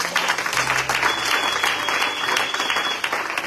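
A church congregation applauds the Lord at a sermon, a loud, dense, sustained clapping from a full crowd that carries steadily through the moment.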